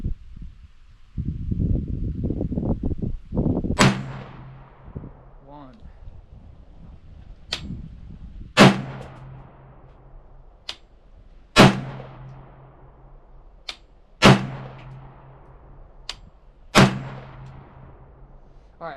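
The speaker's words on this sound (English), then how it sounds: "after those 5 rounds have been fired" Five single shots from an AR pistol at a range during zeroing, sharp cracks spaced a few seconds apart with ringing echoes after each, following some brief handling noise at the start.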